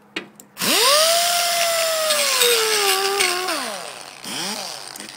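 Close and loud, a grinder on rail welds spins up sharply and whines at high speed for a few seconds, sagging slightly as it works the metal. It then winds down, followed by a brief second rev.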